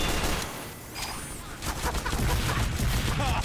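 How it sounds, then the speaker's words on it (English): Standard-issue Lugermorph pistol firing in Team Fortress 2, a rapid burst of sharp game gunshots running the whole clip amid busy battle noise. "It's just this regular pistol that you just start off with."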